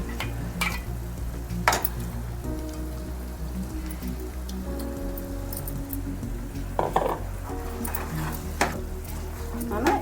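Tomato puree, roasted and blended, sizzles in a pan while being stirred for a makhana (lotus seed) masala curry, a steady frying hiss with scraping stirs beneath louder background music.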